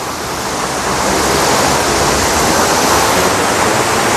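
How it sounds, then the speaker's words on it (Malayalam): Hunua Falls in New Zealand, near Auckland, roars as a steady, loud, broadband rush of falling water that fills the whole clip without pause, with no voices over it. "ഇതാണ് ഉനുവ വാട്ടർഫോൾസ്"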